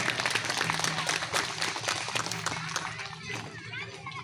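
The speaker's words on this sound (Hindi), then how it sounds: "एक बार जोरदार ताली से इनका स्वागत करें" Applause welcoming a guest at a tribal conference in Latehar: dense clapping from a crowd runs continuously at moderate volume, with voices and a faint hum mixed in and the clapping thinning slightly toward the end.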